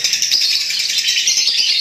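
African lovebird chicks chirp in a dense, continuous high-pitched twitter, close and fairly loud, with many small calls overlapping throughout and no talking.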